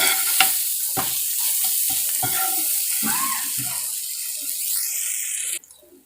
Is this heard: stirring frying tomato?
yes